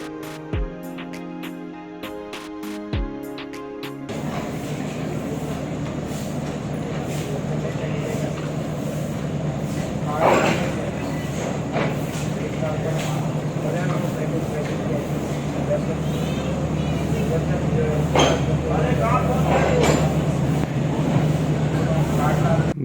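The Green Line passenger train pulls out of a Karachi station platform, starting with a few sharp clanks before a broad, steady rumble of moving coaches and locomotive takes over, loud and close, with voices under it.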